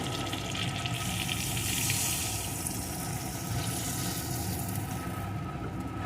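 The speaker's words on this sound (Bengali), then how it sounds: "এখন এর ভিতরে দিয়ে দেবো পরিমাণ মতো জল" Water poured into a pan of frying egg and onion curry masala, a steady rushing, sizzling wash that holds evenly for about six seconds with no voices.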